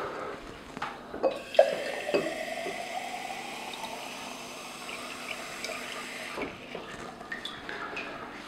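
Tap water pours steadily into a jug holding salt for a lab solution. It makes a continuous splashing fill sound, close and moderately loud, with a few sharper splashes early on.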